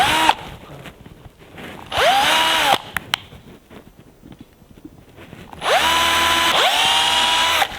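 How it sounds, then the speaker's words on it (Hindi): A surgical power drill bores into bone during fracture surgery, whining in bursts of about a second, then a longer sustained run near the end, loud and close with short pauses between. "इस हड्डी में इसके थ्रू हम ड्रिल करेंगे यहाँ पे।"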